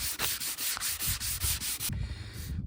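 Steady back-and-forth scratching of 240-grit sandpaper rubbed by hand over a wooden chopping board, with the grain, a regular rhythm of strokes, close and fairly loud, then a brief rougher rub at the end.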